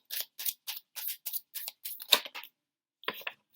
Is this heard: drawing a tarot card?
yes